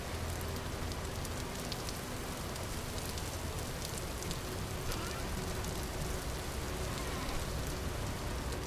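Steady rain falls in the survival game Vintage Story, a dense, even hiss of drops pattering on surfaces that carries on without a break and with no voices.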